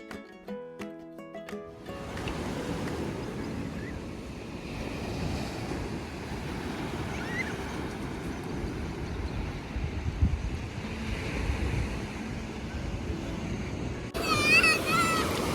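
Ocean waves roll in steadily at Santa Rosa Beach, Florida, a continuous wash of surf mixed with wind buffeting the microphone, following a short burst of music at the start.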